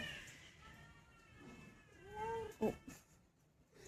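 A cat gives a couple of short, wavering yowls against a quiet indoor background, faint overall with one sharper cry near the end.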